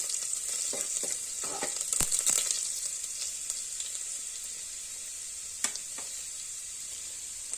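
Finely chopped garlic frying in oil with cumin seeds and ajwain, a soft steady sizzle with scattered crackles and a few sharp pops, quite faint throughout.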